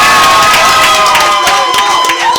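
Loud applause and cheering from an audience at a high school one-person show, with dense clapping and shouts filling the room throughout.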